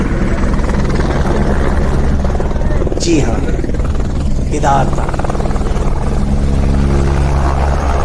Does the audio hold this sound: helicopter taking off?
yes